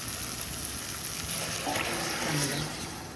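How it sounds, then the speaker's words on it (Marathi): Ginger, garlic, onion, tomato, cumin and mustard seeds fry in oil for moong dal khichdi, giving a steady hissing sizzle throughout, with faint talk in the background. "आलं, लसूण, कांदा, टमॅटो, जिरे, मोहरी फोडणीत घालायचे"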